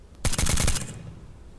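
A suppressed rifle fires a short full-auto burst of about six rapid shots in the Tactical Assault VR game, crisp and close, followed by fading echo and quiet.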